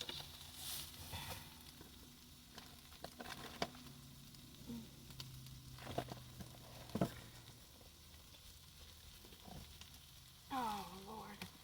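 Scrambled eggs frying in a pan at a van camp breakfast, a faint soft sizzle with occasional taps and scrapes of a utensil, quiet and close with sparse background noises.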